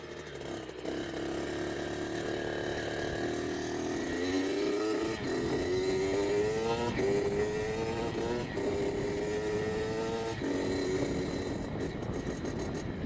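Freshly rebuilt Kawasaki KX65 two-stroke dirt bike engine running steadily up close, its buzzing note rising and falling as revs change through the gears.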